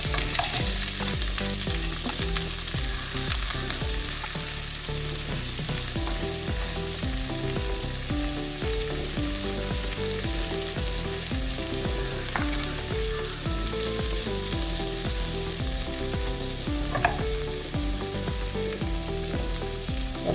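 Sliced onion sautéing in a pan with two pieces of cinnamon and two cardamom pods for a butter egg curry, a loud, dense, unbroken sizzle with faint stirring scrapes running throughout.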